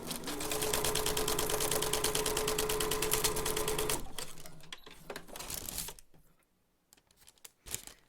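A sewing machine stitches a straight line across faux rice paper for a junk journal bag, a rapid, even mechanical whir up close for about four seconds. Softer handling noises and paper rustling follow.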